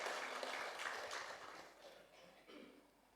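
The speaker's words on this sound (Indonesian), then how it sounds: "Berikan tepuk tangan yang paling meriah." Church congregation applauding during a Sunday Easter worship service, a dense wash of clapping that starts loud and gradually thins and fades over a few seconds.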